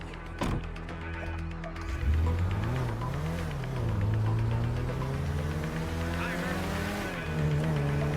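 A car engine revs and shifts through gears as it is driven in GTA 5, a steady loud drone rising and falling in pitch throughout, with a voice briefly heard over it.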